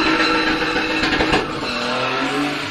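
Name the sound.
gymkhana car spinning with tire squeal and smoke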